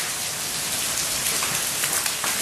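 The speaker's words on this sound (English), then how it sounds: "Hail is getting nailed." During a Kaneohe, Hawaii hailstorm, icy pellets hammer the ground in a constant crackling patter, steady and near, with occasional louder individual strikes.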